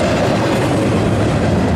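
Norfolk Southern 222 intermodal double-stack freight train led by three AC44 locomotives passes at CP Beaumont, a loud, continuous close rumble of rolling wagons with steady wheel clatter.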